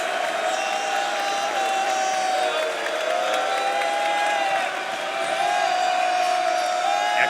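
Home basketball crowd at Devlin Fieldhouse roaring and cheering steadily throughout, a dense, loud wall of voices with whistles and whoops rising over it.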